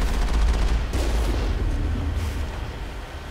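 Turrets firing in the Mass Effect video game, a continuous heavy rumble of rapid booming shots, steady and loud throughout with a low, dense texture.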